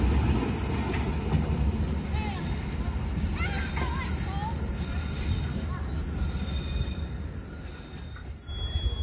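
An economy-class train departing Leles station rumbles steadily along the rails with faint wheel squeals. A few voices murmur beneath the continuous mechanical drone.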